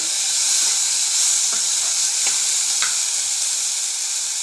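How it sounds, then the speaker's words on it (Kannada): Tomatoes fry in a pan until soft, giving a steady close sizzle and hiss throughout with a few faint stirring scrapes and no talk. "ಚೆನ್ನಾಗಿ ಸಾಫ್ಟ್ ಆಗೋವರೆಗೂ ಈ ಥರ ಫ್ರೈ ಮಾಡ್ಕೊಳ್ಳಿ"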